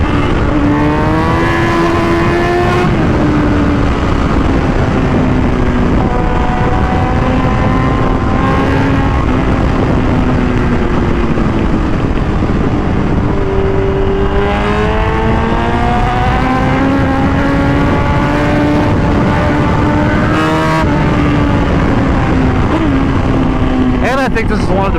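A 2005 Suzuki GSX-R1000 K5 superbike engine sounds loud and close, its pitch climbing and dipping repeatedly through revs and gear changes, with speech heard over it.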